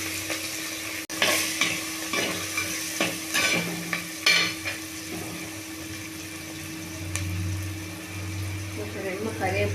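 Chopped green chillies and onions sizzle and fry in a pan, with a spoon stirring and scraping at intervals, steady and close.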